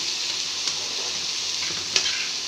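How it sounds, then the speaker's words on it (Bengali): Greens (saag) fry in a pan with a continuous bright sizzle, broken by a couple of faint scraping stirs. "ভালো করে ভেজে নেব"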